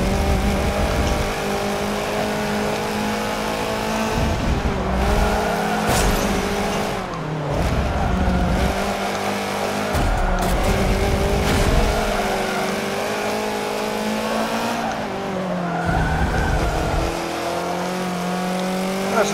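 A Subaru BRZ races in Forza 7, its engine droning loud and close with rising and falling revs through gear changes, broken up by repeated tire squeals and skids.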